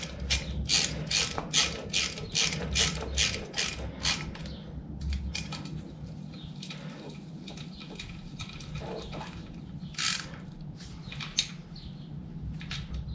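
A ratchet snugs up bolts on an XS1B motorcycle during an oil filter job, giving a quick run of sharp clicking strokes up close, then scattered slower clicks and faint shuffling.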